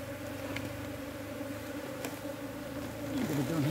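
A dense, continuous buzz of many honeybees swarms around a hive as it is lifted onto a new stand outdoors, close and steady, with faint voices underneath.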